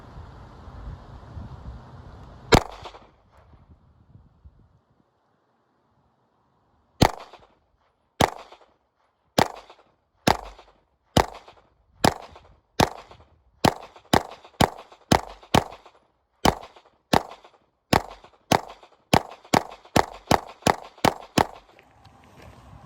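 A Glock 19 clone pistol fires outdoors at a range: one shot, a pause, then a long string of about twenty sharp, loud reports at a quick, slightly uneven pace.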